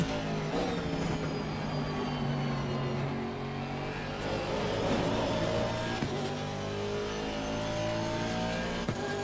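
An Aston Martin AMR V8 race car in Assetto Corsa Competizione, its engine droning steadily and revving up and down through gear changes, with other cars faintly audible nearby throughout.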